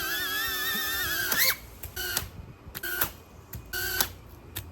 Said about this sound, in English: Hopefully y'all can actually hear that thing hit the ground because I'm whacking it pretty hard.